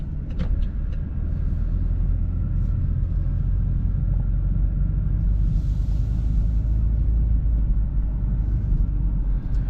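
A car engine idles low and steady during a slow reverse-parking manoeuvre, a constant deep rumble with little variation and a brief faint hiss partway through.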